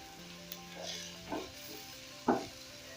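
Meat hitting a hot pot for pilau, sizzling quietly with a few louder stirring scrapes, the sharpest one near the end, over a steady low fry.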